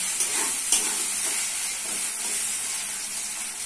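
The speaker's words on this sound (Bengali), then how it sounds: "ভালো করে আদা রসুন বাটাটা ভেজে নেব" Ginger garlic paste frying with chopped onions in a pan, a continuous bright sizzle and hiss with a few soft stirring knocks near the start, close and even, with no voices.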